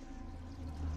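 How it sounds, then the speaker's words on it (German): Water flowing inside a Roman aqueduct tunnel from the 2nd century AD, a low, steady rushing murmur in an enclosed underground space, brief and unbroken. "Ich höre Wasser."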